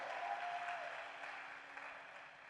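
A church congregation applauds through a dense, continuous wash of clapping during a worship service. The clapping fades slightly toward the end, with a faint sustained tone underneath.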